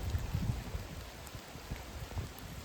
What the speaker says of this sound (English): the falling of the rain, the sound of the wind in the trees